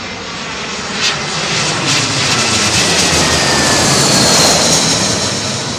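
An airliner passes during Storm Eunice, its jet engines a loud, steady broadband roar that swells slightly and holds for several seconds, with no voices.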